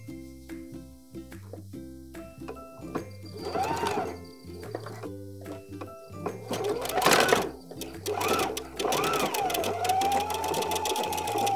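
A sewing machine stitching ripped jeans fabric, running in short repeated bursts of rhythmic mechanical clatter that grows louder and steadier, with a higher whine near the end, close and clear.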